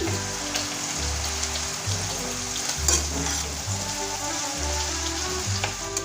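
Cut potatoes and green chillies frying in a pan of oil, a steady dense sizzle running through the whole stretch with low rumbling pulses beneath, close and fairly loud with no talking.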